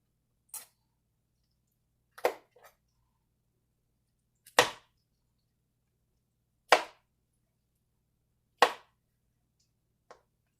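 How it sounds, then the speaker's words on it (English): A knife chops mushrooms on a cutting board for a creamy mushroom penne, giving about six sharp, isolated knocks spaced a couple of seconds apart, close and clear against a quiet kitchen. "keep chopping while the butter is melting"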